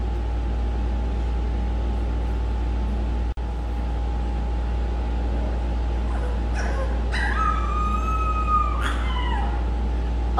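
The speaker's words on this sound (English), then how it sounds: "Are you howling at me, huh?" A mini goldendoodle puppy howls, with a few rising and falling wavering cries in the latter half over a constant low background hum.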